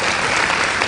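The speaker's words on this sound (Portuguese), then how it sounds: "Uma salva de palmas" A brief, dense burst of audience clapping, loud and continuous for under a second.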